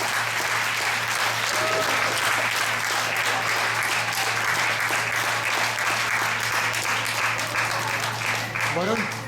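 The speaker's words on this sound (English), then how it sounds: "Please give a big round of applause to all the lieutenants" Sustained applause from an audience at a music school prize distribution ceremony, steady and dense throughout with a faint voice or two mixed in and a low constant hum underneath.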